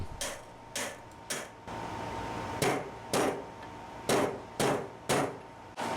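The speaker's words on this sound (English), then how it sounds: "I usually heat up the hub with a propane torch and then just whack them in." Metal hammer blows drive 6201 wheel bearings into a torch-heated hub of a Garelli VIP moped, about ten sharp clanging strikes in irregular pairs and singles, close and loud over a quiet hum, with no talking.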